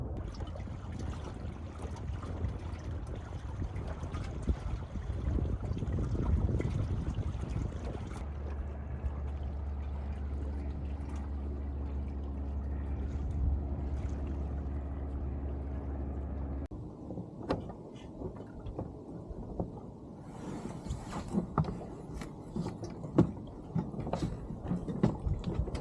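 A small Precision 16 sailboat glides solo in light wind, with steady water rushing and splashing along the hull, a low hum through the middle section, and brighter sloshing near the end.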